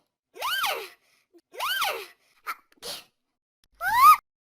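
Sneezes in a Turkish children's song, voiced imitations sung as a cartoon sneeze: two matching rising-falling sneeze sounds, a couple of short sniffs, then a final louder sneeze, all close and clear with no other voices.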